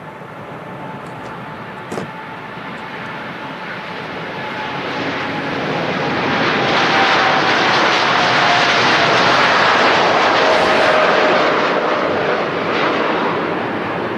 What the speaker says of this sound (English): There goes the Etihad Dreamliner, the 787-10 Dreamliner today